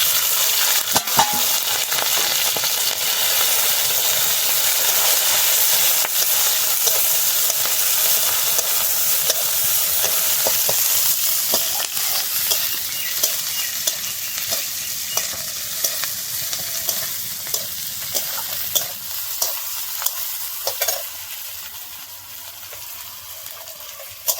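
Garlic, green chili and onion frying together in a hot pan, a loud continuous sizzle with intermittent scraping and stirring, steady throughout and easing slightly near the end.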